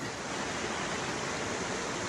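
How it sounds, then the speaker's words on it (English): Bertha Creek in Alaska's Turnagain Arm area, running low, makes a steady, close rushing wash of flowing water with no voices. "So we made it here to Bertha Creek."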